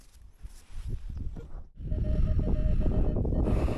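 A metal detector sweeps over a farm field. After some scuffing and handling noise, its electronic tone sounds as a steady, pulsing beep that continues to the end.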